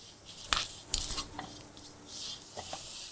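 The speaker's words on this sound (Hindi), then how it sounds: "थोड़ा coriander powder, give it a nice stir" Stirring red chili and coriander powder in a pan for Punjabi-style rajma, a soft sizzle with scraping stir strokes and a couple of sharp utensil knocks against the pan, close and quiet.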